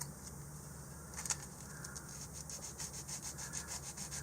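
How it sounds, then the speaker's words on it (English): A light sanding of the base of a model rocket fin, with short, quiet strokes in a steady rhythm that grow more regular after a pause, heard close up and faint with no talking. "I am just sanding off the base where it attaches"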